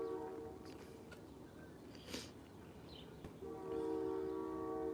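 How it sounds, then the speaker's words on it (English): A train rumbles past with a long, steady horn blast near the start and again toward the end, continuous and fairly close. "that is the train, not the sirens"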